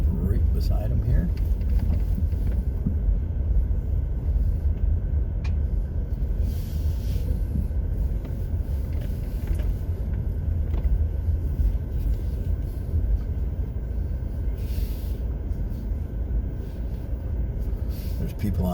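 A car drives through a park in Galesburg, Illinois, past a row of picnic tables, its steady rumble of engine and tire noise continuous and close throughout, with occasional faint bumps.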